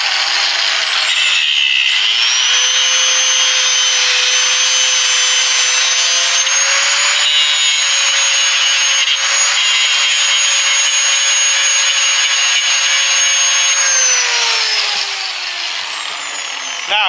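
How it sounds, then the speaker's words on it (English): A power cutting tool grinds steadily through a bolt on a 2005 Land Rover Freelander wheel bearing, a loud, continuous high-pitched whine lasting about twelve seconds before winding down. "So the first thing I'm going to do is cut the bolt straight."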